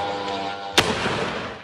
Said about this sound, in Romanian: Clipurile video publicate de localnici arată o explozie care a luminat cerul